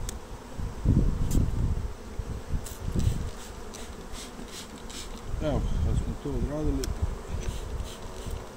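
Honeybees buzz around an open hive during a natural varroa mite spray treatment, a close dense drone with handling knocks and someone speaking briefly over it.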